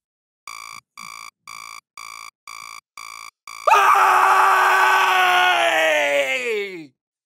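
Seven evenly spaced alarm-clock beeps, then a loud, long human scream that slides downward in pitch and cuts off abruptly, performed as a comic morning wake-up scream.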